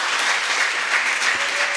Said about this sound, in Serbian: Molim aplauz za njih.